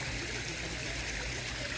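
Water trickles and burbles steadily into a garden pond newly built at a house, a close, continuous babble with no voices.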